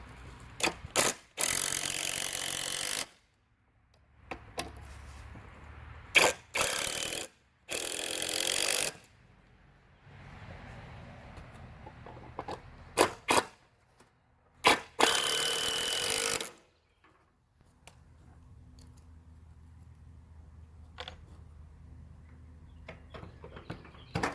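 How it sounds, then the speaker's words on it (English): A power drill driving 3-inch screws into wooden boards while assembling a chicken coop buffet, several loud whirring bursts of varying length separated by pauses, quieter handling noise and clicks between runs. "go ahead and screw all these boards together by just putting some screws in right here"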